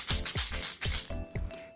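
Homemade percussion shaker filled with beads, shaken in several bursts of bright, clattering rattle, close and fairly loud, with brief pauses between shakes.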